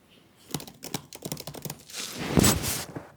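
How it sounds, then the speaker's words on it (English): Typing on a computer keyboard: a quick run of close, crisp key clicks in an irregular rhythm, ending in a louder clatter that may be the space bar or a heavier stroke, with no talking. "I am typing."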